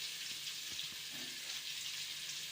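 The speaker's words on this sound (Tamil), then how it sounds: "பூண்டை நல்லா வதக்கிட்டு" Garlic sautéing in a pan for curry leaf thokku gives a soft, steady sizzle with faint stirring scrapes, alone and fairly quiet throughout.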